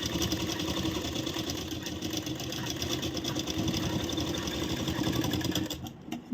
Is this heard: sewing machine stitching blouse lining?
yes